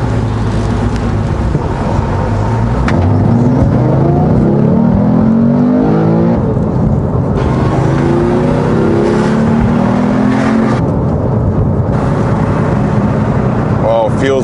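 A Porsche 911R of the 991 generation, rebuilt from salvage and showing only 666 miles, drives on a test run, its engine revving with rising and falling pitch sweeps beneath talk from inside the car.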